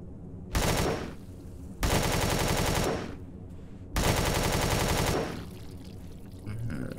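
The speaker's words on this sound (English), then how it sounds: "I haven't really practiced with my pulse rifle." Pulse rifle fire in the sci-fi survival game Empyrion Galactic Survival, three loud sustained automatic bursts of about a second each with short gaps between, close and dominant with no talk.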